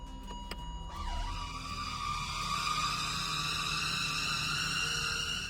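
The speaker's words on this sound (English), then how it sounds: "My car sounds like an elephant when putting it in drive." Honda CR-V, 2019, shifted into drive with a jack forgotten underneath, gives off a sustained high trumpeting whine that swoops at the start and then holds steady and loud, layered with harmonic overtones over a low mechanical rumble.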